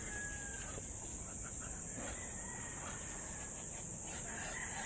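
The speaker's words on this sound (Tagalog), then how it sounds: "ilinabas ko na po itong inahin at itong barako" A rooster and hen are let out on a backyard poultry setting, with faint crowing and clucking heard under a constant loud insect-like hiss and ambient noise; no one speaks.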